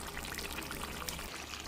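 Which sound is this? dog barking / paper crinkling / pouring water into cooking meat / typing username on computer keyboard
pouring water into cooking meat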